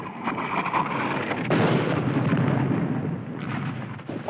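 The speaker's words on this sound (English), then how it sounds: "Where's that Jap artillery?" Continuous rumbling artillery fire in a World War II combat film, a dense distant roar with a heavier swell midway and no speech over it.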